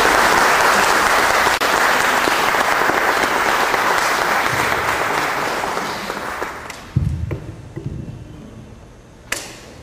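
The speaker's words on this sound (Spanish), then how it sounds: "recibamos con un fuerte aplauso a Jorge" An audience at an arts lecture in Peru gives loud, sustained applause to welcome a speaker named Jorge; the dense clapping holds strong, then thins and fades over the last few seconds to scattered claps and room noise.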